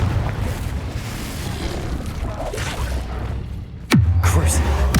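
A Confringo spell in Hogwarts Legacy, the PC game, ends in a sudden booming blast followed by a rumbling crash, set against ongoing combat noise and whooshes.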